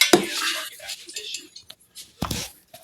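A spoon stirs fermented honey garlic, giving a few close, sharp clinks and scrapes against the container, with quiet voices talking around it.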